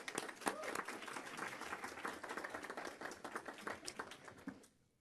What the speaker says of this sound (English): Can we give another round of applause for the 3 students,